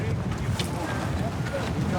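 Strong mountain wind near a summit buffets the microphone with a constant roaring rumble, gusting steadily throughout.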